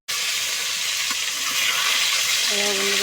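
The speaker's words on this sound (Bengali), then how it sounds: "কড়াইটা গরম হয়ে গেছে, আমি ডিমগুলো একটু ভেজে নিচ্ছি" Eggs rubbed with salt and turmeric frying in a hot wok, a dense, continuous sizzle that starts abruptly and stays loud throughout, with a faint tonal hum creeping in toward the end.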